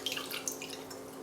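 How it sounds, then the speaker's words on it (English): Ice water draining off a batch of homemade cultured butter, a short run of faint drips and light trickling, quiet and close. "Now you can drain this water"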